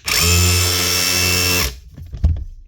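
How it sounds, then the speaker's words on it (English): Dewalt DCH273 rotary hammer drill running with its hammer mechanism working, likely jammed, a loud steady buzzing whir for about a second and a half that stops abruptly, followed by a few handling clicks and knocks. "You can hear the hammer mechanism working, but it's not really putting anything through"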